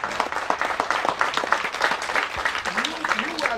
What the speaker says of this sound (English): you need a hand of applause.